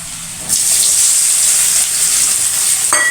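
Soya chunks (meal maker) drop into a pan with turmeric and chili powder over low flame, bursting into a loud, steady sizzle that holds close and continuous, with a brief stir or scrape near the end.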